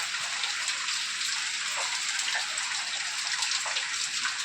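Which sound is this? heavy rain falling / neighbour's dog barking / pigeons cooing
heavy rain falling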